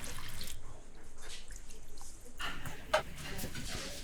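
Red potatoes washed in a bowl of water while cooking, with quiet soft sloshing and dripping throughout and one sharper drip near the end.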